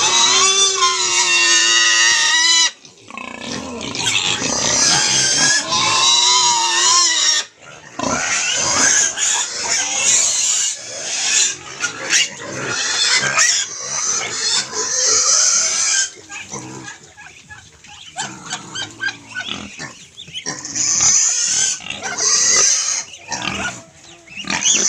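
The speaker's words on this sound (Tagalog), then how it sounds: "ipakita ko sa inyo na ipakain ko sa aking mga native pigs yung balat ng saging" Native pigs fed banana peels squeal and grunt loudly and close up, a near-constant noisy chorus with brief dips.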